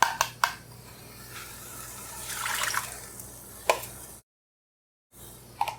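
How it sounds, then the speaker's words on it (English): Coconut milk made from coconut powder and water splashes into a cooking pot in a short pouring rush, bracketed by a few sharp clinks of utensils against the pot and then a brief silence, close by and without speech. "I will now add my 1 cup of coconut milk"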